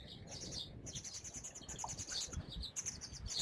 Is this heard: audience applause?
no